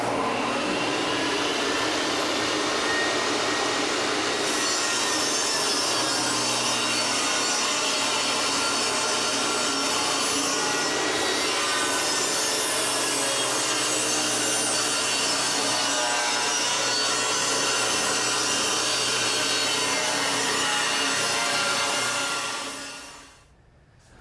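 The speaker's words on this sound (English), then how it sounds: "so we'll cut the dado on the rough side" Table saw cutting a dado in the rough side of a 2x4: a loud, continuous whine of the blade running through wood for over twenty seconds, with a steady grinding hiss. The saw then spins down to quiet.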